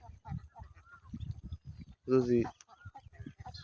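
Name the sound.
ducks honking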